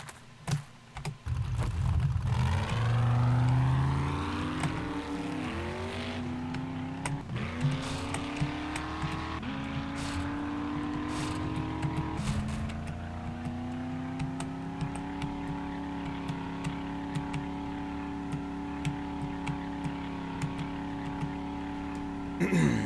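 An engine drones and revs through a drive in 7 Days To Die, with shifting pitch as it accelerates, under rapid keyboard typing and occasional talk.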